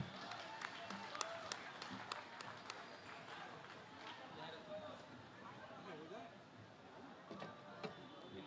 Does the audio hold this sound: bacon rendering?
no